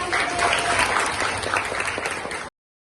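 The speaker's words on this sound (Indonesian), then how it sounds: "Applause pour la classe." Classroom applause, a steady wash of many hands clapping together at close range for a couple of seconds before it cuts off.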